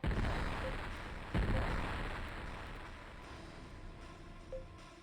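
An artillery barrage in the space game Infinite Space opens with a heavy boom, a second blast follows a moment later, and a long rumbling roar slowly fades beneath scattered faint pops.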